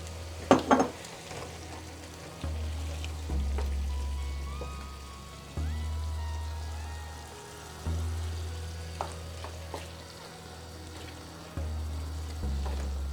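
Mushrooms and tomato sauce cook in a pan for a shrimp and mushroom casserole, giving a steady close sizzle broken by a few louder clatters of stirring near the start.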